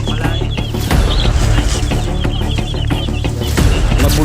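Chickens and chicks near the spot where a king cobra struck keep up loud, close, continuous clucking and agitated calls, with no talking over them.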